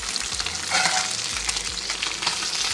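Goatfish croquettes frying in a pan, a loud, continuous close sizzle and crackle that swells briefly in the middle, with no talking.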